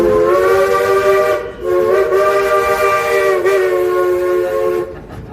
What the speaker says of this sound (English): Hey Ichabod, we like the sound of that whistle.